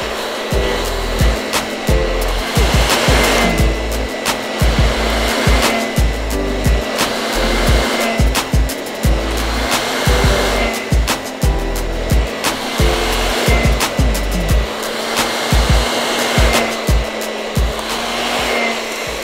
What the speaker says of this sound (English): I just finished blow drying Willinda